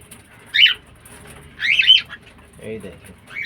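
A pair of caged cockatiels give a few short sharp calls and chirps at close range, spaced out against a quiet background.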